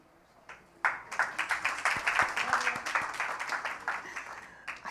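An audience at a fireside chat with Folorunsho Alakija breaks into applause after a short quiet stretch, the clapping dense and steady at moderate distance, with no talking over it.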